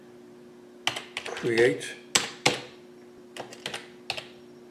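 Keystrokes tap on a computer keyboard in short irregular bursts and single clicks, close by, while someone speaks briefly over the typing.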